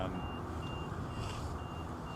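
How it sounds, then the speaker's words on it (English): Regular high-pitched reversing beeps from buses repeat at an even pace over a low engine rumble and general background din. "Quite a lot of the old beep beeps going on here, folks, because these buses are in and out"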